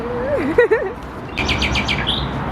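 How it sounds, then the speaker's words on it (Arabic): A brief human vocal sound is followed by a rapid series of high, bright sparrow chirps close by, over a soft background hiss, in a park in Turkey. "شوف هنا سمعت العصافير محلاها"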